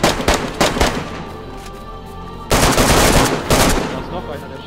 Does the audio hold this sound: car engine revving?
no